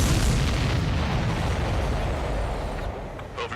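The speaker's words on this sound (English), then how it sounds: "Missile hit the supply ship dead on." Missile explosions strike an enemy supply ship in the Ace Combat 7 flight game, a dense, continuous booming roar of blasts that stays loud throughout, with a few sharper pops near the end.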